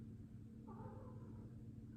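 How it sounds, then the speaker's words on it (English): A cat gives one drawn-out meow from behind a closed door, faint and muffled over a low steady room hum. "you might be able to hear a cat through the door"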